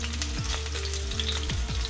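Chicken frying in a pan on high heat, a loud continuous close sizzle with a low steady hum beneath, no talking.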